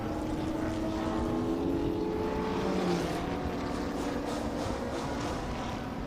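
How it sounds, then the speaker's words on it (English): Race cars rumble around a racing track in a continuous, moderately distant engine drone, with faint rising and falling tones as cars pass; no one speaks. "here are these tires rolling out onto the track as all these cars are on the track right now"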